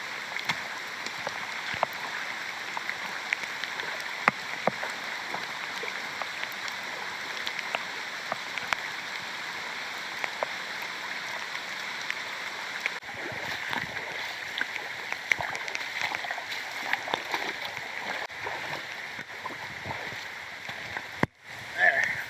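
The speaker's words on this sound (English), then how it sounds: "Just crossed a stream." A creek in Ohio's Shawnee State Forest flows during a solo backpacking trip. A steady, close murmur of running water is broken by scattered small clicks and knocks, with a brief dropout near the end.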